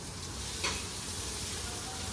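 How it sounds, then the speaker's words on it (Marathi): Chopped onion and tomato fry in a pan, giving a close, even sizzle that runs unbroken for about two seconds. "आता ऑलमोस्ट कांदा आणि टोमॅटो फ्राय झाले, पूर्ण ब्राऊन कलरचं होऊ द्यायचं"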